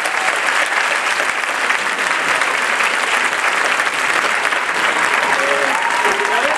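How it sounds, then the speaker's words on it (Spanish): Sustained, dense applause from an audience at a high school graduation ceremony, steady and loud throughout with no break. "Un forte aplauso e comenzamos."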